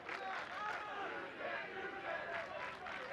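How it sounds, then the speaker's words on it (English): Soccer crowd at a Duke versus Elon college match roaring together in a dense, sustained wash of shouting voices that swells and dips across the moment. "it's going to get a roar from the crowd"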